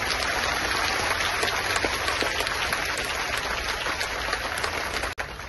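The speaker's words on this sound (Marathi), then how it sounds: "जरा एका 2 हाताचा टाळ्या तर वाजून दाखवा" Sustained applause from a large crowd at a Marathi political rally, dense and steady for several seconds, with a brief dropout near the end.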